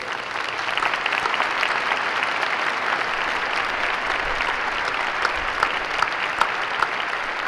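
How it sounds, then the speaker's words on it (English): A large audience at a 60th Air Mobility Wing change of command ceremony claps steadily and loudly, sustained dense applause without pause throughout. "Let's give them a big round of applause."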